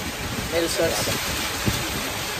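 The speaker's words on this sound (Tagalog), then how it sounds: "Lakas na ng ulan." Heavy rain falls outdoors in stormy, windy weather, a steady broadband hiss running throughout under people talking.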